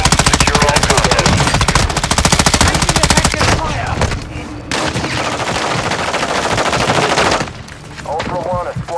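Rapid automatic gunfire in Call of Duty Warzone on Ashika Island, a loud sustained machine-gun burst followed by scattered shots and explosive bursts, with a faint radio voice under the action.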